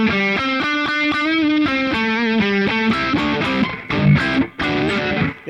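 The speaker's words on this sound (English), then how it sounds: "it's a distortion pedal." Electric guitar through a distortion pedal into a Boss Katana MK2 amp, playing a riff of repeated chords, loud and close, with a gritty, saturated tone and no voices.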